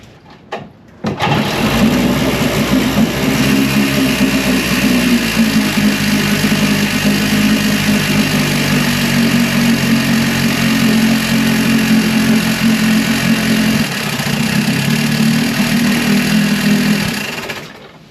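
A 1971 Johnson 25hp outboard motor with an ignition problem starts up and runs steadily and loudly for about sixteen seconds, a rough, buzzing idle with a slight dip in pitch partway through before it cuts off.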